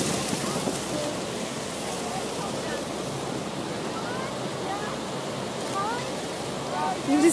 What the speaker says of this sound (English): You just see the rushing water.